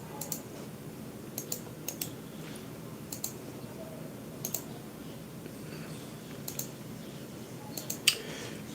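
Computer keyboard keys click during cut-and-paste shortcuts, in scattered sharp taps and quick double presses over a faint room hum.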